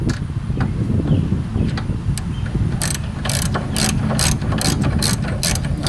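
A ratchet clicks while turning over the engine of a Craftsman YS4500 lawnmower, with a low mechanical rumble throughout and a quick run of sharp ratcheting clicks in the second half, close up with no talking.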